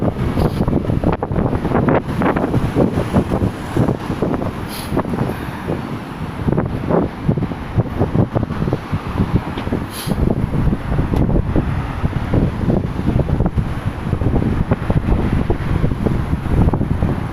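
Strong wind gusting along a Tokyo street at night, buffeting the microphone with a continuous loud, rough roar and no talking.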